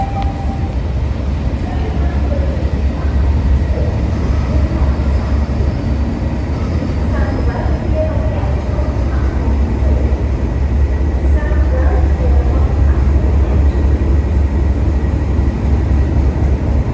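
A train of two locomotives and thirteen coaches rumbles steadily at a station stop, deep engine noise throughout, a continuous heavy drone of idling locomotives, no clear voices.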